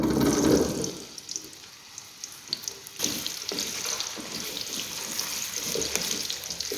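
Peeled potatoes are rinsed under a running tap, a near gush of water at the start, then softer splashing and trickling with a few clinks and a sharp knock partway through.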